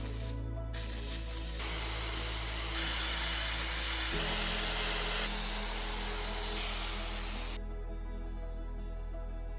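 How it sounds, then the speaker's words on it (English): A whining power tool polishes alternator components for a 220V 10kW generator, a steady close hiss-whine that shifts pitch as the load changes, then stops abruptly near the end. "we will clean and polish the various components of the alternator"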